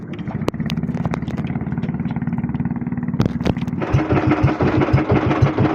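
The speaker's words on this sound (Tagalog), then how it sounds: "pagkaingay parang may airplane na mga makina ay" Boat engines drone loudly and steadily nearby on a handline fishing boat, then roar rougher and louder partway through, with a few sharp knocks over the din.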